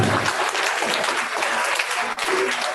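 Dense, steady applause from an audience after a song at a 1904 World's Fair Society event, filling the whole stretch evenly and close up.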